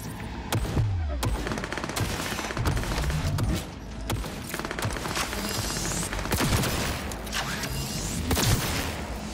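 Sustained turret gunfire in Cyberpunk 2077, dense overlapping bursts and a fusillade of shots that run loud and continuous through the whole stretch, with a faint voice now and then.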